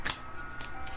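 Tarot cards shuffled by hand, one brief crisp riffle at the start followed by soft, faint papery rustling, no speech.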